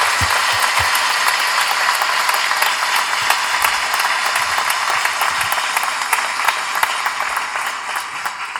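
Strong applause from a military-hall audience, a dense steady patter of many hands clapping that fills the whole stretch and tapers slightly toward the end.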